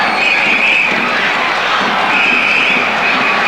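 A dense, continuous roar rises from a packed stadium crowd at the 1993 Copa América final between Argentina and Mexico in Ecuador, loud and steady throughout, with sustained high whistle- or horn-like tones swelling twice within the wash of noise.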